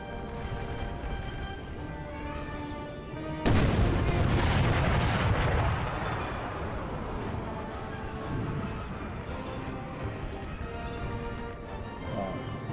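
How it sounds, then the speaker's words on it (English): 24-pounder howitzers fire in an American Civil War game battle: a sudden deep cannon boom hits a few seconds in, then rolls and rumbles away into a long fading echo over constant battlefield din. "24-pounder howitzers are getting pulled out. Ah, here they go. They're firing."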